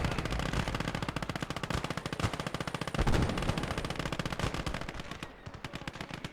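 A Soviet DShK heavy machine gun fires in Call to Arms: Gates of Hell, a long, loud, rapid unbroken stream of shots that thins out near the end.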